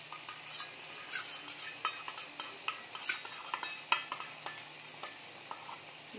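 Paneer and vegetables stirred in a pan, with quiet, irregular scraping and clinking of a spoon against metal over a faint sizzle, close but soft throughout.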